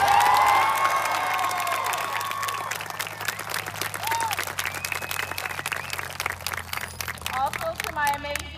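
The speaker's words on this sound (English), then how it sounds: "I would like everybody to give a round of applause to our amazing senior sponsors" Graduation audience at Robstown Early College High School applauding the senior sponsors, a dense sustained round of clapping with scattered cheers and shouts, following a voice at the start.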